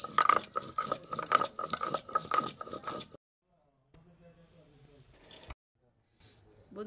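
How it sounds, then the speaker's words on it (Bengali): Tomato being ground by hand on a stone grinding slab (shil), with dense rough scraping and crunching strokes in a steady rhythm, followed by quieter, sparser rubbing. "এবার টমেটোটা আমি শিলে বেটে নিচ্ছি"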